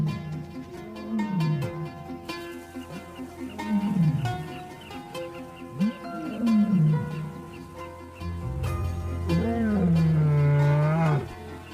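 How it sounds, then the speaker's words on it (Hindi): Wild male lions roar in a valley, each call a series of deep, grunting bellows that rise and fall. The calls repeat over and over, loud and echoing, with a final long roar near the end. "नोमैड की दहाड़ पूरी घाटी में गूंज रही है।"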